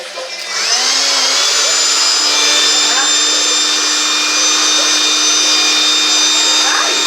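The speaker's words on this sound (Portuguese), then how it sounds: "Aprenderam a fazer um ventilador caseiro." A homemade electric fan runs with a steady, loud motor whine and airy whir that starts up within the first second and holds constant throughout, with no speech over it.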